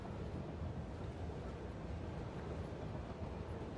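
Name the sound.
train passing in the video game Satisfactory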